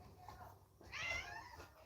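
A cat meows once, a short rising call close by, over faint room noise with a voice speaking softly nearby.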